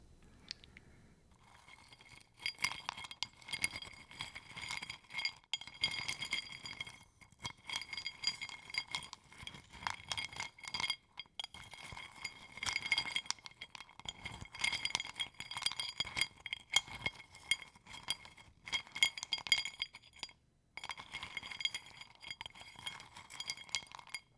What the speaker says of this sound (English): let's see if we can get some nice sounds from the cup of sweet spheres